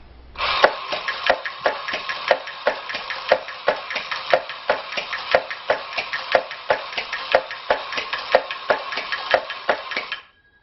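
An electric Mambo drumming bear toy beats a fast, steady tattoo of sharp clicky drum hits, each tap crisp and close, running evenly for about ten seconds with no voices.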